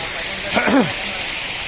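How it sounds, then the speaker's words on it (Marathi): A small waterfall on a Konkan plateau rushes after heavy monsoon rain, producing a steady broadband roar of water close by, with a brief voice speaking over it partway through. "हा मिनी धबधबा"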